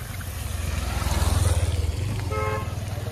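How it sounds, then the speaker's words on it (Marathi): A motorbike engine drones close by with a pulsing throb, rising then easing as it passes, followed by a brief horn toot near the end, on a foggy hillside village road in Konkan. "बाईक"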